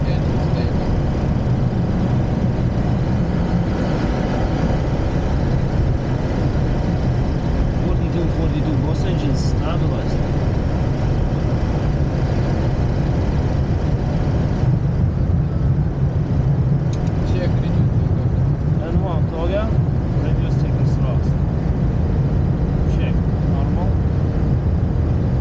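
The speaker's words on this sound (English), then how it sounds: "let you see the takeoff itself" An airliner takes off from the long runway 36 right at Borispol. Heard from inside, its engines give a steady, loud broadband roar and rumble that builds continuously for the whole stretch, with faint clicks and rattles on top.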